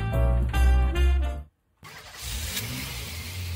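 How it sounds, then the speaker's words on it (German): A souped-up Cadillac engine in a Swiss German radio play revs loudly in rhythmic surges, cuts to a brief silence, then returns as a rough, strained running drone with whining tones. "Der Motor tönt jetzt auch noch wie 10'000 gequälte Katzen"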